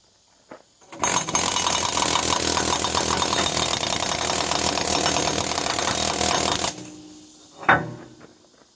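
Astro Big Nasty air hammer chiseling metal, a loud, harsh, sustained rapid hammering burst lasting several seconds before cutting off, followed by a brief clank.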